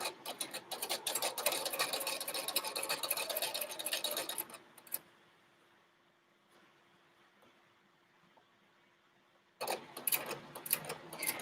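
A sewing machine stitches a quilt piece in two runs, a fast close whirring chatter for several seconds, a quiet pause, then the stitching resumes briefly.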